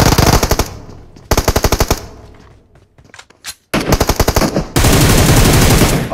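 Rapid automatic gunfire in the mobile shooter PUBG Mobile, loud close bursts of fast repeated shots separated by short pauses and ending in a sustained roar of fire.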